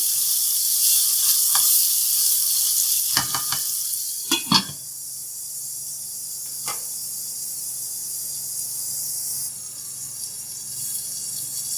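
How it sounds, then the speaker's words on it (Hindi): Tomatoes sizzle steadily in a pan for a gawar phali (cluster bean) and chicken dish, with a few sharp utensil scrapes and clinks of stirring near the middle. No one speaks. "इसको 2 मिनट टमाटर फ्राई करेंगे।"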